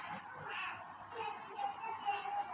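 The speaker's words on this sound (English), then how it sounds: "the tiny insect, cricket" A cricket chirrs steadily and continuously in the open night air, a shrill, unbroken trill that holds even and fairly close throughout, with no voices present.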